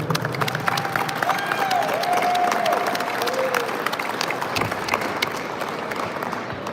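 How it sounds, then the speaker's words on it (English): A crowd at a Second Amendment gun-rights rally outside a state house breaks into broad, steady applause and cheering that holds for several seconds at a fairly loud level, with faint voices mixed in. "So give a big round of applause for Frank Scotia."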